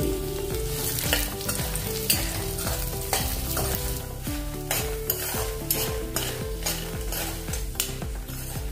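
Whole spices — mace, red chili, coriander and cumin — dry-roasting for veg biryani, stirred in a pan with repeated scraping and clinking strokes over a soft, steady sizzle, close and fairly loud, with no talking.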